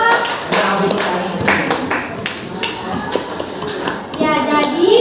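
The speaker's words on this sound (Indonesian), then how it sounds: "Tepuk tangan dulu dong." Children in an Indonesian classroom clapping for a classmate, a loose uneven patter of small hands mixed with kids' chatter and a teacher's voice.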